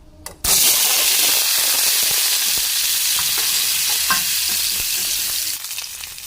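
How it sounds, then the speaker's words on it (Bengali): Potatoes fry in a pan of hot oil, a loud, dense sizzle that bursts in abruptly, holds steady for several seconds with faint crackles, then eases off slightly at the end; no voices. "আলুটাও ভেজে নেব।"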